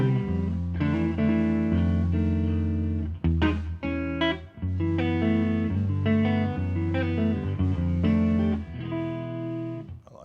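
Electric guitar with Fishman Fluence Greg Koch Gristle-Tone pickups playing clean chords and melodic notes, bright and ringing, with brief pauses between phrases and no voices.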